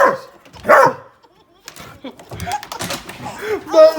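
Dogs barking in short bursts at home, a couple of sharp barks near the start, with people talking and a baby's voice around and between them.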